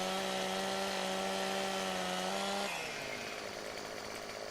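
A chainsaw trims branches off a tree in Farming Simulator 2015, a loud, steady engine whine that drops in pitch partway through as the blade bites into the wood.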